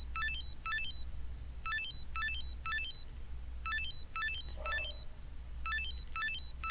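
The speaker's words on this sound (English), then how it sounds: "A loud alarm suddenly started ringing." In the Killer Queen video game, an alarm rings as repeated bursts of rapid high electronic trills in regular groups over a steady low hum. The sound is fairly quiet and there is no talk.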